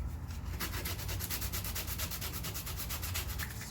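Sandpaper rubbed back and forth on a car battery terminal of an FJ Cruiser, a steady close scraping with fast regular strokes throughout.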